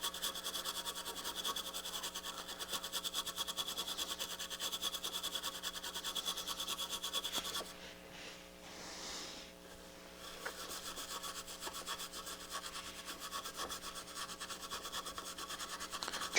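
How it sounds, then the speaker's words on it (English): A brush dipped in alcohol scrubs a circuit board on a NAD C350 amplifier under repair, a close, fast, continuous bristly scratching that briefly eases midway before resuming. "Give it a good scrub."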